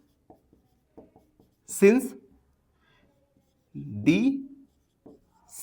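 A pen writing on paper during a maths lesson, soft scratchy strokes in short bursts, with someone speaking Hindi over them in two brief phrases.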